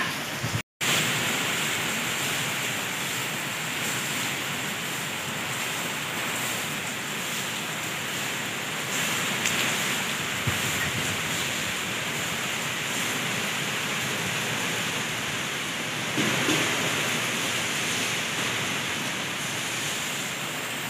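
Strong stormy wind and rain during Cyclone Remal, a loud continuous roar of gusting wind and pouring rain with brief surges, steady for the whole stretch after a short dropout at the start.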